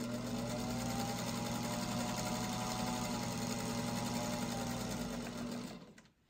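A sewing machine stitches a seam on a quilt block, its motor whirring steadily and evenly up close before it winds down and stops near the end.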